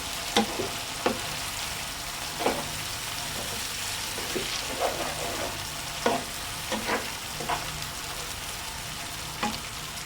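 Salted food frying in a pan and stirred by hand, a steady soft sizzle broken by scattered scraping knocks of the utensil against the pan, close and moderately loud with no talking.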